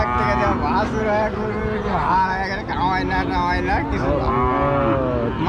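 Several cattle low loudly and repeatedly at a cattle market, long overlapping moos close by, with a busy crowd murmuring in the background.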